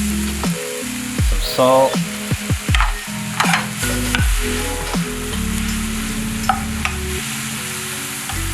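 Mushrooms frying with soy sauce in a pan give a steady close sizzle, with repeated stirring clatters and scrapes and a few brief spoken words over the cooking.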